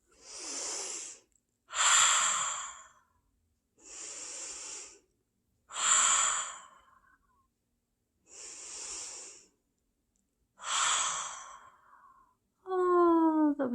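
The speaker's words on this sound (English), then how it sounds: "we're going to take a deep breath, 3 big breaths" Slow, deep breaths taken during a calming exercise, six long airy inhale-exhale swells separated by quiet pauses, close and clear, ending with a short wheezy, voiced breath.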